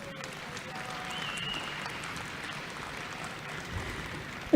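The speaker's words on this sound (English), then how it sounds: "Let's give the electrical trades candidates a round of applause." Applause from the audience at a Navajo Technical University spring commencement for electrical trades candidates, a soft, even patter of distant clapping that runs throughout and ends in a brief louder bump.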